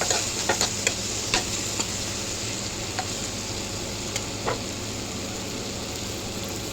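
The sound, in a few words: tomato and green chilli pieces being stirred and fried in a pan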